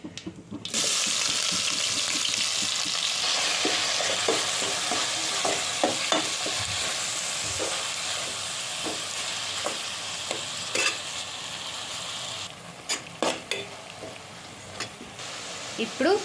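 Ginger-garlic paste fries in hot oil with cumin, mustard seeds, curry leaves and onions for a rajma curry, giving a steady loud sizzle throughout, with scattered clinks and scrapes from stirring and a few sharper knocks near the end.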